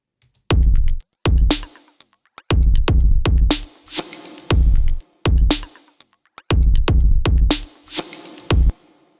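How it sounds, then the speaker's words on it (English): Percussion run through a Soundtoys PhaseMistress phaser plugin: loud, clicky hits in a syncopated, rhythmically complex pattern, each burst swept by a swirling phaser tone, with short gaps of silence between phrases. "the clickiness and the phasiness of, the phase mistress that I added to this percussion"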